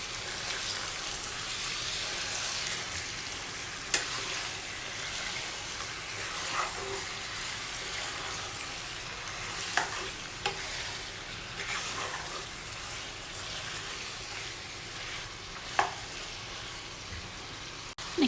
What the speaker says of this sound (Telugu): చికెన్ యాడ్ చేసిన తర్వాత ఇదంతా కూడా బాగా కలిసేటట్టు మిక్స్ చేసుకోవాలండి